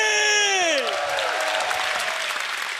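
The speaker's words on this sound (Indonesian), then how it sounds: "Tepuk tangan untuk Ari." An audience at a televised Indonesian stand-up comedy competition breaks into loud, sustained applause and cheering for a headlining comedian, while a host's amplified voice fades out at the start.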